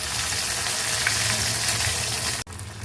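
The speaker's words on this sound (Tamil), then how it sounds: "பிரெட் ரோல் நம்ம வந்து பொரிக்கிறதுக்கு வந்து நம்ம ஸ்டவ் ஆன் பண்ணிவிட்டு ஒரு கடாயை வச்சுட்டு அதில் இப்போ நம்ம எண்ணெய் ஊற்றிட்டோம்" Bread rolls fry in hot oil in a kadai with a loud, steady crackling sizzle that holds evenly throughout, then cuts off abruptly near the end.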